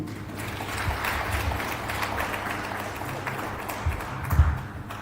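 A seated audience at an emergency-centre meeting on transboundary animal diseases applauds in a steady, moderately loud wash of many hands, with a couple of louder knocks near the end.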